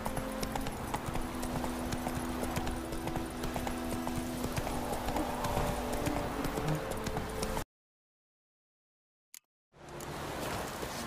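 A horse in The Witcher 3 clip-clops along at a steady walking rhythm over constant ambient noise, then the sound cuts to near silence before the game's background returns.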